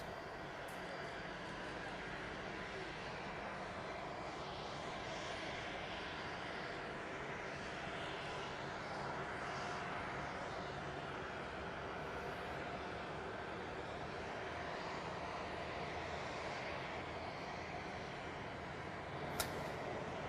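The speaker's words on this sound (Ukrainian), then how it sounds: "Російський літак, як мені підказують, якраз злітає." Jet engines of the Russian presidential airplane taking off at the Alaska summit site, a steady, broad roar holding at an even level throughout, fairly distant, with faint voices in the background.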